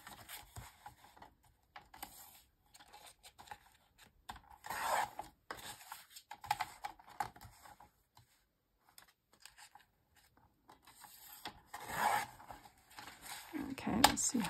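Scissors snip through a paper tag for a junk journal, with short bursts of close, quiet cutting and rustling separated by pauses.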